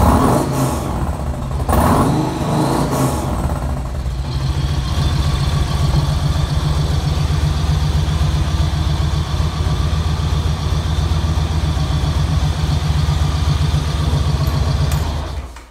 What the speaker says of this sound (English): When you rev it up, it gives you that just a slightly bolder note.